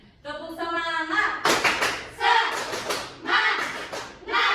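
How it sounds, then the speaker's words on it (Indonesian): A primary school class does a rhythmic spirit clap, chanted voices mixed with bursts of group clapping in short phrases, close and lively in a classroom. "kita tepuk semangat dulu"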